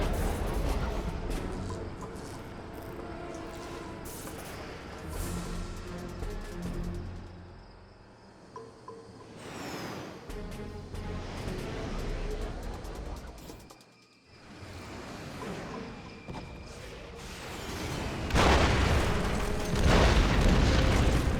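Vindicator bombs exploding in Command and Conquer: Red Alert 3 give a run of deep booms and rumbling blasts, swelling and fading in waves, loud and close with a heavy crescendo near the end, no voices.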